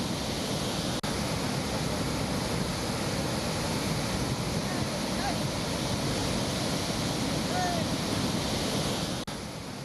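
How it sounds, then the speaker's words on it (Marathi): A flooded Satkund waterfall in Maharashtra, overflowing after heavy monsoon rain, gives a steady, loud, broadband roar of rushing water that runs unbroken for the whole stretch with no voices. "हा सातकुंड धबधबा अक्षरशः ओसंडून वाहताना पाहायला मिळतोय"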